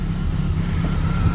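Idling four-cylinder 2-litre 16-valve engine of a Renault Clio RS 3, a steady low rumble running close and constant with no talk.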